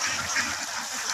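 A flock of farm ducks quacks continuously in a busy, overlapping chorus that sounds fairly close, with no talk over it.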